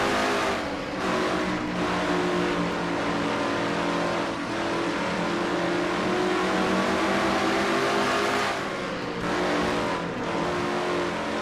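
Stock cars in a NASCAR-style video game race, including the number 28 car chasing the 7 car, roar steadily with layered engine drones and rising revs throughout, loud and continuous with no talking.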